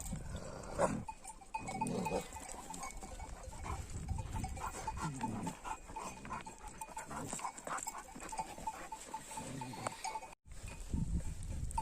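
A grazing flock of sheep out with a shepherd, heard as an outdoor wash of scattered bleats and animal noises, with a faint bell tinkling at times, fairly steady and moderately distant.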